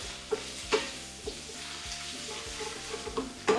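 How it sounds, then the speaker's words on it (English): Onion dropped into a hot pan for a Half Moon recipe sizzles and fries steadily at close range, with a few sharp stirring knocks against the pan and no talk. "in goes our onion."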